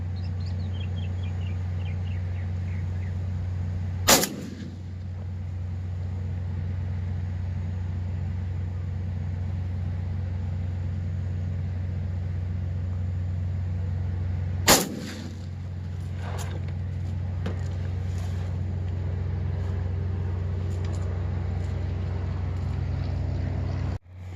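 A Benelli Super Black Eagle 3 shotgun fires 3-inch Long Beard No. 5 turkey loads through a factory choke, two loud sharp single blasts about ten seconds apart over a steady low outdoor rumble.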